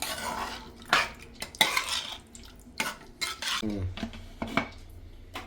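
A spoon clatters and scrapes against a metal pot of mutton and water in several separate bursts, close and fairly loud, with no talking.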